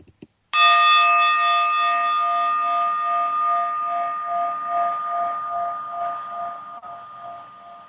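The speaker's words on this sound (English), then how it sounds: "I'll see if I can start with the ringing of a bell." A single bell strikes once and rings out with a long, clear sustained tone that slowly fades over several seconds, preceded by a few faint clicks.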